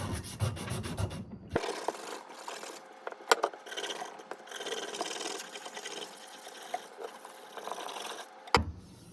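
Rusty knife being scrubbed clean along its corners and ridge: close, steady rasping and rubbing strokes with sharper scrapes, after a brief pause near the start and before stopping at the end.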